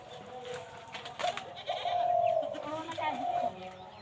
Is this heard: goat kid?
yes